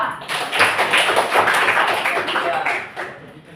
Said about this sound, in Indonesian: Oke, tepuk tangan dulu untuk kelompok 2.